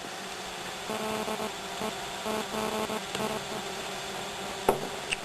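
Bees buzzing close around beehives outdoors, a continuous dense hum of many insects with a few louder passes near the listener.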